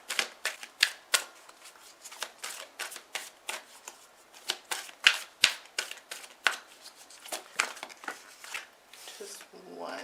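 Playing cards handled close up, a rapid series of crisp flicks and snaps in uneven bursts, with a brief soft rustle at the end and no speech.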